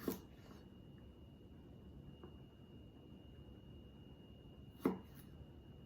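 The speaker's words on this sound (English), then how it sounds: "So I'm gonna cut these in half so they won't roll around while I'm trying to mash them." A knife halves garlic cloves on a cutting board for soon dubu jjigae. Two sharp, quiet knocks come several seconds apart over a faint background hum.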